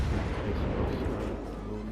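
A heavy weapon shot in a combat video game booms as a dense low rumble that rolls on and slowly fades, loud and close, with a faint voice underneath.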